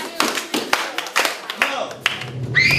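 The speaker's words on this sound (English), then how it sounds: "Somebody clap them off for me, please." A group of people clapping out the four beats of a whole note in a classroom, a handful of sharp claps with a voice coming in near the end.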